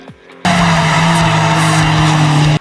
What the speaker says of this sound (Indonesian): Dia mengemudikan mobilnya dengan kecepatan tinggi.